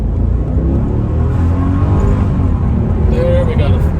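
A 2001 Mercedes E55 AMG accelerates hard with a loud, steady engine roar and rumble heard from inside the car, a continuous pull with voices faintly present underneath.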